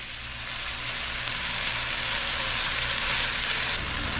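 Chopped onions fry in a pot for green chili stew, giving a steady, close, even sizzle that holds throughout with no talking.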